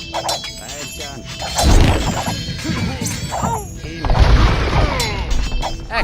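Stone castle collapsing in Age of Empires 2, a loud run of crashing, shattering rubble and heavy booms lasting several seconds alongside battle noise, with a voice heard faintly.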